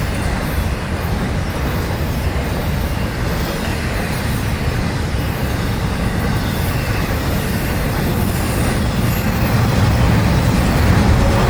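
A locomotive-hauled train passes close by in Saint Augustine with a loud, continuous roar of wheels and engine, a faint squeal and steady rumble throughout, with no voices.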